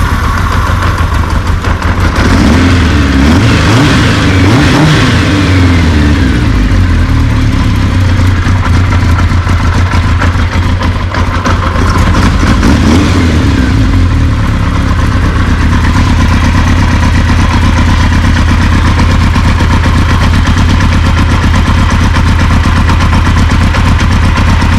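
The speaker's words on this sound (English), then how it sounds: "still got a little bit of an exhaust leak" A motorcycle engine with a small exhaust leak runs close and loud, a rough idle with uneven puffing and a brief rev swell early on, then settling into a steady low throb.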